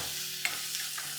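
Fried onions with turmeric and coriander powder are stirred in a pan, a low sizzle running under a few brief scraping strokes of the spoon, close and clear.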